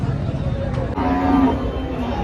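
Cows, including HF, Jersey and local breeds, low loudly at a small livestock market in Dhule, one long moo standing out over a background of crowd chatter and talk.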